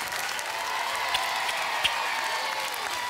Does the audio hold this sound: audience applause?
yes